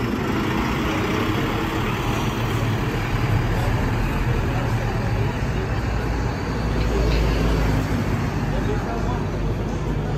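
City bus with its engine running as it pulls out of the Pouso Alegre urban transport terminal, a steady low diesel rumble amid continuous traffic noise, with voices talking over it throughout.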